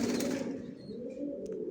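Pigeons in a loft, some sitting on eggs, give a soft, low cooing murmur close by, with faint flutters and chirps briefly at the end.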